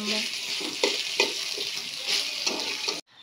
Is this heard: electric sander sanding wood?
no